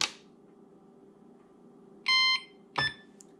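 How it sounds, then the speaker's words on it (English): Two short electronic beeps from a Traxxas EZ-Peak Dual ID battery charger, the first slightly longer, over a faint hum, with a brief click at the start. "hold the charge rate select button and the ID button down at the same time until it beeps"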